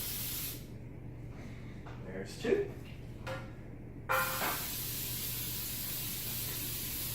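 A can of baking spray hisses into cake pans for a fresh strawberry cake in two long, loud bursts, one at the start and one toward the end, with someone speaking briefly in the quieter gap between them.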